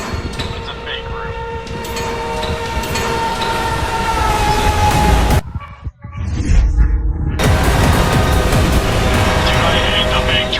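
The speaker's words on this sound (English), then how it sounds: "Dude, I hate the fake trains, bro." A fake train rushes past in a video game: a loud, broad rumble and roar with a horn-like tone holds steady, cuts out briefly near the middle, then returns just as loud. Players talk over it.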